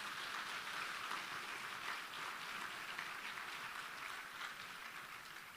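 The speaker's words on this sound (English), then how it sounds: "Can we give them a round of applause?" A crowd applauds steadily at a formal public event, a dense continuous patter of clapping that holds at an even level and tapers slightly toward the end, with no voices over it.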